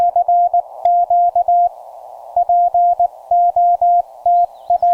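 Morse code CQ call keyed on a Penntek TR-35 portable radio at a park, a loud clean sidetone beeping in quick dit-dah groups with short pauses, alone without talk.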